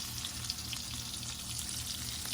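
Salmon fries in a hot pan, a steady even sizzle with faint pops throughout, close and continuous with no voices.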